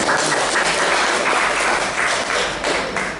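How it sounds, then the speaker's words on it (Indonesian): Dense, loud applause from an audience at an e-commerce and social media training session, a continuous crowd of clapping hands sustained throughout without a break or voices on top. "Bisa beri tepuk tangannya lagi kepada Pak Rindu."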